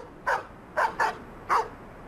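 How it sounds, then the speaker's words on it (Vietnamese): A dog barks four times in short, sharp bursts, two close together, at moderate distance over a quiet background in a drama scene. "Không biết tại sao nó sủa không ngừng."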